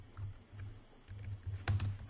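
Computer keyboard typed on during a programming stream, scattered keystrokes over a low steady hum, a sharp cluster of clicks near the end, close and moderately quiet, no talking.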